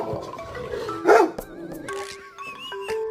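A dog lets out a single short, loud bark or yip amid softer whining, squeaky tones in a quiet indoor room.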